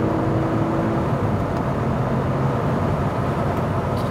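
VW Golf GTI VR6 six-cylinder engine droning during a fast lap, a steady low rumble with road and wind noise inside the car, holding an even level throughout.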